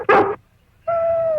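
A dog on a mining claim gives a short, loud bark, then falls silent, and after a pause a steady whining tone follows.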